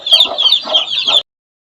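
Several close, loud clucks from a chicken in quick succession, followed by a short silence.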